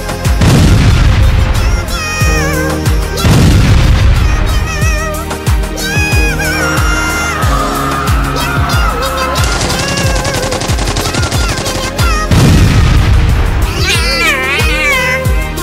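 Loud booming rocket-attack explosions and rapid gunfire-like bursts repeat over busy music, with cartoonish cat meows and whines mixed throughout.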